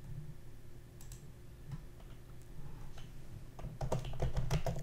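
Typing on a computer keyboard in a quiet room: soft scattered key clicks that grow into a quicker, denser burst of keystrokes toward the end.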